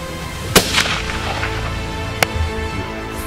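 A hunting rifle is fired at a wildebeest in the South African bush, two sharp cracks standing out against steady outdoor background noise.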